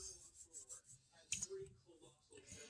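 Hands rub shortening into flour for Irish soda bread, making soft, close dry rasping and brushing strokes in an uneven rhythm, fairly quiet.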